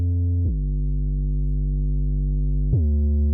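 A deep, pure sine bass tone holding a low note, sliding to a new pitch twice, clean and smooth with no other sounds.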